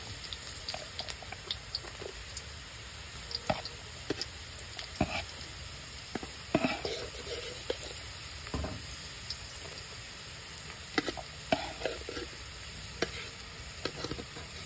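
Ginger frying in a hot pan, a soft steady sizzle with intermittent scraping clicks of a spatula stirring, close and alone without talk.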